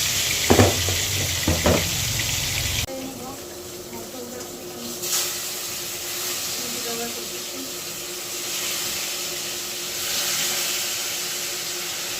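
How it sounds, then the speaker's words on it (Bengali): Fish frying in a pan on a stove makes a constant close hiss and sizzle, with some clattering knocks near the start. "আর এখন যে মাছ রান্না করতেছি"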